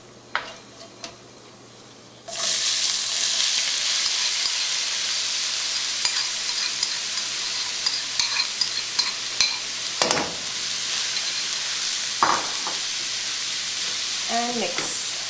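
Onions hit a hot pan with green cardamom and start a loud, steady sizzle that runs continuously, with scraping stirring strokes and occasional clatters of the utensil against the pan.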